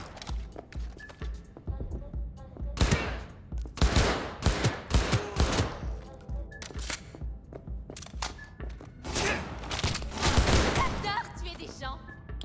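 Weapon fire in the video game Cyberpunk 2077: repeated bursts of loud, punchy shots in clusters across the stretch, with someone talking in French throughout.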